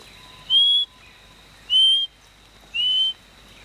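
Three clear whistled notes, each a rising and then level tone lasting about a third of a second and evenly spaced, imitating the call of a king parrot in a rainforest, with faint steady background hum between them.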